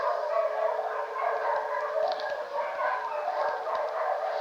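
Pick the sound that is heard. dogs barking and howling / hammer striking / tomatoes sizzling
dogs barking and howling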